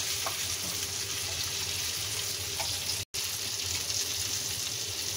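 Fish frying in a pan at home, flipped to cook the second side, giving a steady, close, continuous sizzle with faint watery crackle throughout and a brief dropout midway; no talking.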